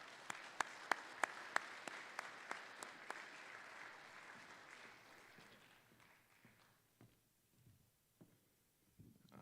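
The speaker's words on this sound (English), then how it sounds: "Let's give him a round of applause." Audience at a debate championship and awards evening gives a round of applause, starting with a few sharp nearby claps, swelling into steady clapping, then fading away to scattered final claps.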